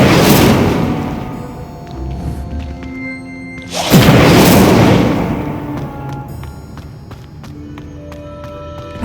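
An Incendio fire spell cast in Hogwarts Legacy bursts out with a loud whooshing roar midway, swelling and fading over a continuous game soundscape with music and ambient effects.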